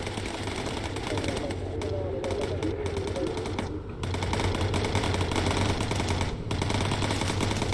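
Rapid bursts of machine gun fire from a World War II bomber's turrets in the video game Bomber Crew, engaging Bf 109 and Bf 110 fighters, rattling steadily over a droning engine bed for the whole stretch.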